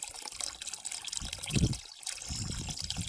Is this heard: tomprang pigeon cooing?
no